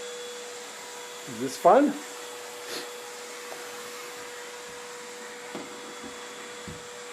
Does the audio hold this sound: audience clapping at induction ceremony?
no